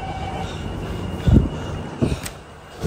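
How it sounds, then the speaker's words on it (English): Steady rumbling of a Singapore MRT metro train in motion with a few louder low thumps from the wheels, heard from inside the carriage. "Got on the train at Orchard."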